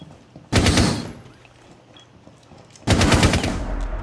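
Automatic gunfire in the video game Rainbow Six Siege, two loud sustained bursts of rapid shots separated by a quieter gap.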